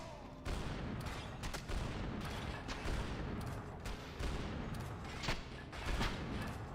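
Gunfire in the shooter game Max Payne 3, a dense, dull barrage of overlapping shots and booms with occasional sharper cracks, steady and continuous throughout, fairly quiet overall.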